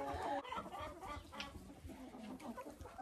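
Young laying hens clucking in a coop enclosure, a steady chorus of close, overlapping clucks and soft calls with no talk.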